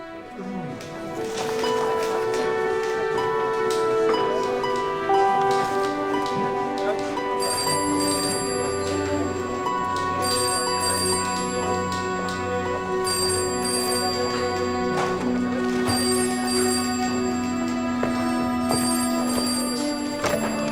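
A telephone rings in an English detective drama set in 1960s Oxford, sounding repeatedly over a busy, loud musical score with tones that stop and start across the passage.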